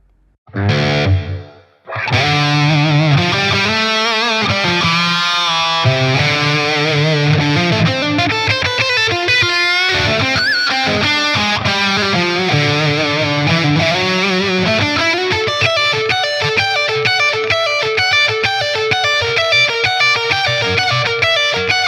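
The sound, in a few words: high-gain electric guitar with reverb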